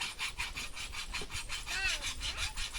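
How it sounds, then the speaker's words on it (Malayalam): A metal file is drawn back and forth across a blade to sharpen it, producing a steady series of close, rasping scrapes in a quick regular rhythm, one brief ringing scrape standing out partway through. "അതുകൊണ്ടാണ് നമ്മൾ അരം വെച്ച് രാഗി എടുക്കുന്നത്."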